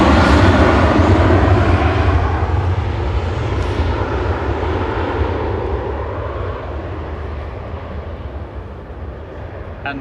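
A Sun Express jet airliner climbs out of Manchester Airport bound for Antalya, a loud engine roar that starts close and gradually fades as it moves away, with no talking.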